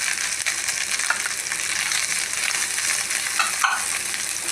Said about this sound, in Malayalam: പാനിലേക്ക് കുറച്ച് നാളികേരം, അരമുറി നാളികേരത്തിൻ്റെ പകുതിയുള്ള കേട്ടോ, അത് ചെറിയത് നന്നായിട്ട് ഫ്രൈ ആവണം.